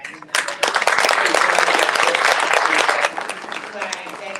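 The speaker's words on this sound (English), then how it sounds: "let me give a hand clap to our new members" A room full of people at a DeKalb mayors' roundtable clapping steadily for a few seconds for new members, loud and close, with the applause tapering slightly toward the end.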